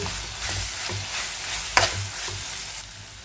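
Green chili paste fries in a pan with a soft continuous sizzle, several gentle stirring scrapes and one sharper clack, close up and without speech.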